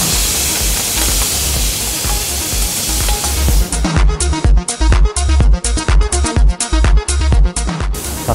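Tomatoes go into softened garlic and onion in a hot pan, giving a loud, steady sizzle that turns into rhythmic, repeated stirring scrapes and bursts of frying, heard up close without talk.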